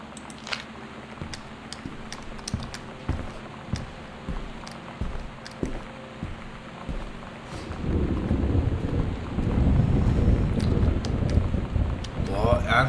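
Thunderstorm with rain in the video game Gone Home: sharp cracks of thunder over a low rain wash that swells into a heavier, louder downpour rumble in the second half.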